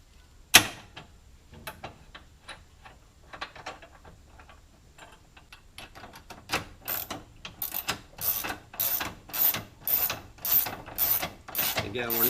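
A ratchet wrench clicks in rapid bursts while snugging stanchion bolts on a Ford GT500 transmission during a second-gear lockout repair, the clicks growing louder and more regular toward the end, close up with no talking.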